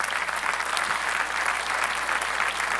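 A church congregation bursts into steady, dense applause that fills the sanctuary, a continuous wash of many hands clapping with a faint low hum beneath and no voices rising above it.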